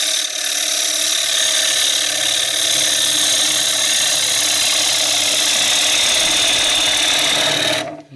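A lathe gouge makes a shear cut across a wooden tray, giving a continuous close hiss and whir that holds steady for about eight seconds before cutting off abruptly.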